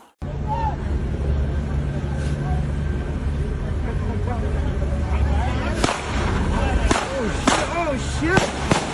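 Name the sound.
gunshots fired during a police bodycam incident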